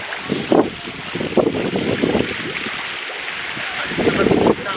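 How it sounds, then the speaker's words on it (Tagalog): Strong wind buffets the microphone at a beach where a family is swimming, a steady roaring rush with waves faintly beneath and bursts of voices talking over it. "Ang lakas ng hangin"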